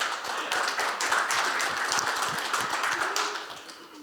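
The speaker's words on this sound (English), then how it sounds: "can we give a round of applause for what she's on?" Workshop audience applauding in a room, a steady dense wash of clapping running the full length at even loudness, fading slightly toward the end.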